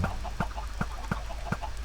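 Minecraft chickens on an automatic farm clucking in short, evenly spaced clucks, about six over two seconds, fairly quiet over a steady low hum, with no voices.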